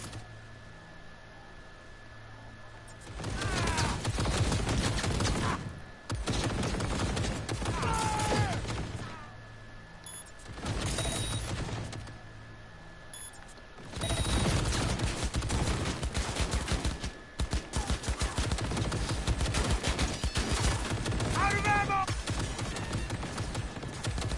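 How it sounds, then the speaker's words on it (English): Gunfire in the video game Cyberpunk 2077 comes in several dense bursts of rapid shots, loud and close, separated by brief quieter gaps, with a voice calling out over parts of it. "Keep firing, goddammit!"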